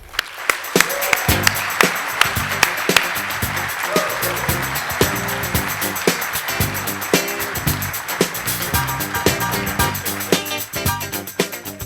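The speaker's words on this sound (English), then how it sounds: "Let's give her a hand clap for that wonderful introduction" Loud, sustained applause from a crowd, dense clapping filling the room for several seconds without pause.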